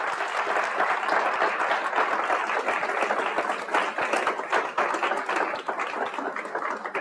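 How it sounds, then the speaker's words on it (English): Sustained, loud applause from an audience at an agrifood science event, a thick continuous roar of many hands clapping for the full duration, with no talking over it. "I think it requires an applause."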